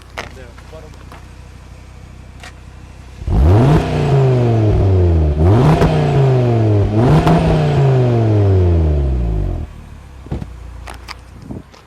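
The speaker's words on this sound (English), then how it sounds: "Not sure how much of the exhaust sound it picks up" A 2019 Audi RS3's exhaust, recorded close at the tailpipe, barks through three sharp rev blips in a row, each climbing and falling, after a quiet idle, then settles back to idle.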